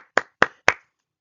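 Three sharp hand claps in an even rhythm, close and crisp, each ringing briefly before silence.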